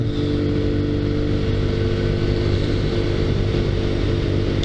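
Kawasaki Z125 motorcycle, a 2019 model being broken in, rides with a steady, loud small-engine drone and low rumble throughout, with wind noise and no speech.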